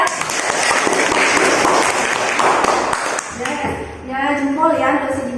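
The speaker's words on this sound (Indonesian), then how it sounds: "kasih tepuk tangan dulu untuk Dika ya" Classroom of students clapping for a classmate, dense applause for about three seconds that thins out as a voice begins talking over the end.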